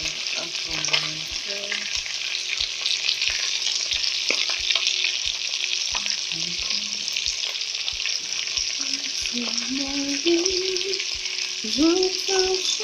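Garlic and shallots frying in a pan for beer chicken give a steady close sizzle throughout, with light stirring clicks and occasional tonal scrapes near the end.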